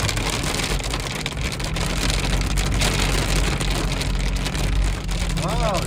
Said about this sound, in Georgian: სეტყვა კაცო